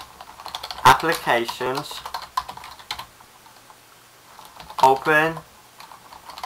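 Typing on a computer keyboard while entering a terminal command on a Mac, steady close key clatter running under two short bursts of speech.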